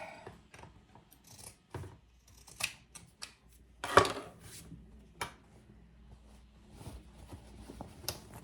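Scissors snip through fabric while trimming a caddy and diaper pouch, giving quiet, separate cuts in an uneven rhythm with soft handling noises between them.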